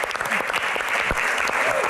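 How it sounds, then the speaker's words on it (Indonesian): Dense, lively applause from an audience at a live Q&A event, steady and loud across the clip, with voices talking over it. "tepuk tangan sekali lagi yang paling meriah teman-teman"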